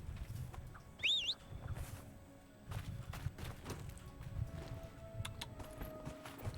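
Horse hooves clip-clop in the Dragon Age Inquisition video game as a steady run of soft taps over low game ambience, with one brief whistling chirp near the start.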